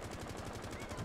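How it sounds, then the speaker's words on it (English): Gunfire in an online Rainbow Six Siege-style esports match on PS4, an attack round, rendered as a steady one-second burst of rapid automatic shots, dense and continuous with no speech over it. "Shots coming out elsewhere."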